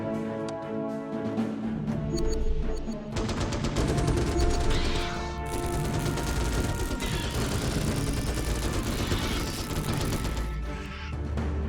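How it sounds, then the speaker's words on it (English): Troopers laying down a wall of gunfire in the video game Starship Troopers: Terran Command, dense continuous rifle and machine-gun bursts blending into a loud, rolling fusillade with game music underneath. "Just gonna make a wall of gunfire,"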